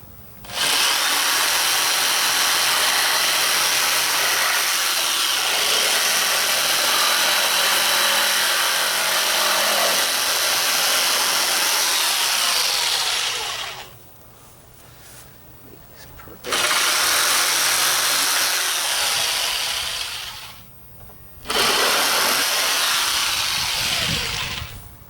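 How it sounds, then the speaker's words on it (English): Power jigsaw trimming the bottom edges of wooden gate boards, a loud continuous buzzing cut that runs steadily, stops briefly twice, then resumes. "These boards on the bottom trimmed up. I got my jigsaw."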